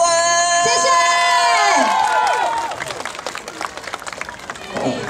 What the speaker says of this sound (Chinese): 再用最热情的掌声，